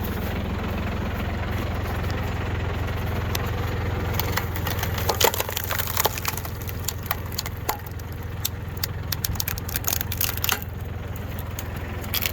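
A New Holland Boomer TC25D compact tractor engine idles steadily with a low, constant rumble, overlaid by scattered clicks and rattles.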